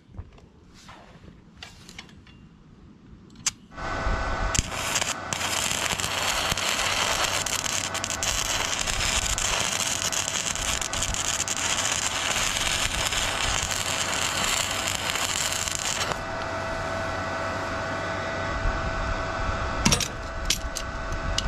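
Welding on a broken trailer: after a few quiet clicks and taps, a loud continuous crackling arc hisses for about twelve seconds, then a softer hum and a few clanks.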